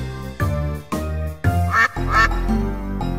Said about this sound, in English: A duck is in the barn, a duck is in the barn.